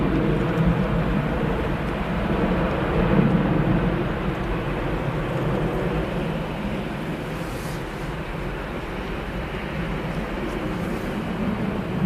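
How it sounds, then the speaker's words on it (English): A Ryanair Boeing 737 departs Manchester Airport for Faro, its broad, steady engine roar holding close and loud for the whole stretch with a slight swell early on and no talk. "Ryanair 737 is off to Faro."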